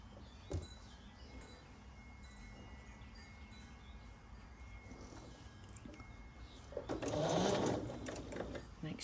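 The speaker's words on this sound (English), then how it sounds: "We're going to sew an A and a D together" A sewing machine stitches quilt block pieces together with a quiet, continuous whirring run. It swells into a louder, faster burst toward the end.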